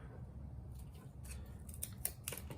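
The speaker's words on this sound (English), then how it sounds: "I'm going to go ahead and cut this." Scissors snip through PVC vinyl fabric, giving a quick series of crisp, close cutting strokes that grow sharper toward the end over a low background hum.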